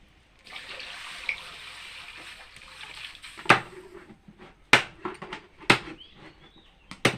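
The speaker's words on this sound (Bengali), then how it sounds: "তাই জলটুকু আগে গরম করে ধুয়ে নিই" Pieces of duck meat being washed with warm water: a steady trickle of running water, then a series of sharp, close knocks and clatters as the pieces are handled in the bowl, with no voices.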